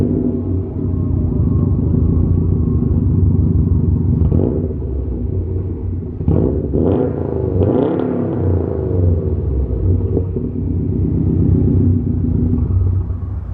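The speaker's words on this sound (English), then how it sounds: "You get that Subaru rumble," A Subaru STI with an EJ engine idles with a steady, loud, close exhaust rumble, broken by a few short blips of revs around the middle before it settles back to a deep burble.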